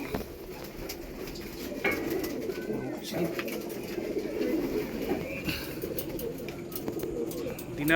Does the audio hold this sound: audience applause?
no